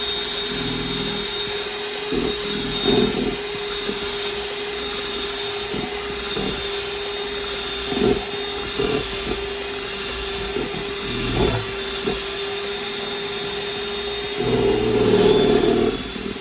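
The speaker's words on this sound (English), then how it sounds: "we're going to take a break from the whisking" A mixer whisks cream for coffee ice cream with a steady motor hum, fairly quiet and constant, with occasional clicks and bumps of the beaters against the bowl and a louder stretch near the end.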